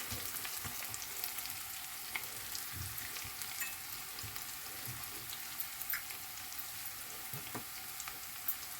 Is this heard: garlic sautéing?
yes